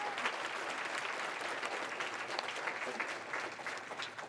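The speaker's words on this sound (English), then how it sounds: "one more round of applause for all of our award recipients as well" Audience applause at an annual peace builder awards ceremony for the award recipients, a steady dense clapping from a crowd filling the room, sustained and even throughout without a break.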